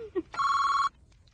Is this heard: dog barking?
no